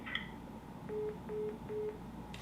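After a phone call's line drops, a telephone line sounds three evenly spaced short tones, clear and fairly quiet, over faint background noise with no talk.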